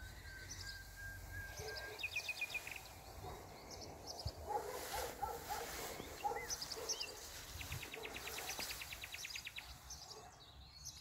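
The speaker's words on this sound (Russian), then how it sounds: "Птички поют у нас," Birds sing and chirp in a spring garden with snow still on the ground, scattered short trills and tweets at a distance, faint over a soft outdoor background, with a dog barking somewhere.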